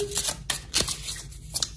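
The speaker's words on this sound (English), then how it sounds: "let's jump into the reading and give the cards a good shuffle" Tarot cards shuffled by hand in a quick run of crisp riffling, flapping bursts with brief pauses between them, close and fairly loud with no voices.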